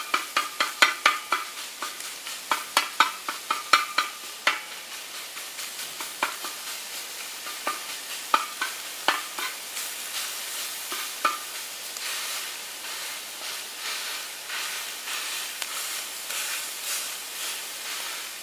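Sausage for a breakfast burrito fries in a pan, a steady close sizzle and hiss punctuated by a rapid run of spatula scrapes and taps as it is broken up and flipped, easing into plain sizzling, no talk.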